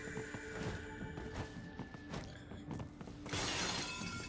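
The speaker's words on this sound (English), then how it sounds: "It's essentially just drone activation to break through the glass here." Glass shatters loudly in the action game Metal Gear Rising after a drone breaks through it, a bright crashing burst following scattered thuds and clanks.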